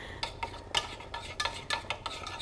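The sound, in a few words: stirring natural butters melting in a pot on the stove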